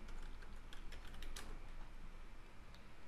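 Keys on a computer keyboard are tapped in quick light clicks while a command is typed, faint over a steady room hum.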